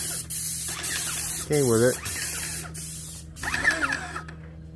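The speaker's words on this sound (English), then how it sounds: "Still spraying with it up there, using the 4-finger gun and everything." An airless paint sprayer with a four-finger gun sprays the eaves of a house, giving a steady, close hiss that runs under a man's speech.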